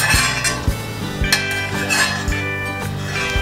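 Metal spoon scrapes and clinks against a pan and bowl as fried cashews are transferred, a series of sharp clanks and taps at irregular intervals, close and clear with no talking.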